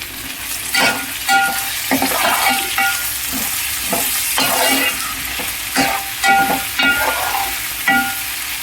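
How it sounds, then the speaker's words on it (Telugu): Sliced ivy gourd (dondakaya) frying in a pan, a loud continuous sizzle broken by repeated scraping strokes of a spoon stirring the pieces, with no talking. "దొండకాయలు ఫ్రై అవుతున్నాయి"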